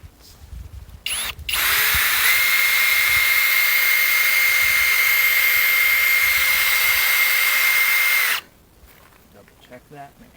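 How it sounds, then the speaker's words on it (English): A power drill whines steadily at high pitch for several seconds, drilling at an angle into a mini excavator's metal rear cover, starting and stopping abruptly, close and loud. "I'm going to walk the drill bit at this angle to adjust it just slightly"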